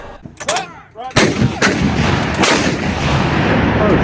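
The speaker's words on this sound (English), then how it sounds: "If you've ever heard an M777 howitzer fire," Booming in-game M777 howitzer fire in the shooter Supposition, a few sharp blasts followed by a loud, long rolling rumble that fills the clip, with no talking.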